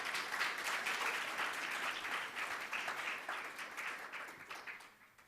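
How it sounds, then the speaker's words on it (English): An audience at a patient and family experience conference applauds a presenter named Christine; a steady, fairly soft wash of clapping that holds evenly and then fades out near the end. "Some applause for Christine."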